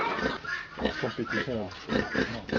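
Pigs grunting on an African farm, a run of rough, close grunts and snorts with uneven rhythm, loud and continuous throughout.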